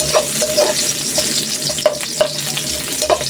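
Ginger and onion frying in hot cooking oil for a pork leg soup, with a steady close sizzle and repeated stirring scrapes, no talking.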